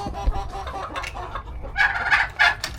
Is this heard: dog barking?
no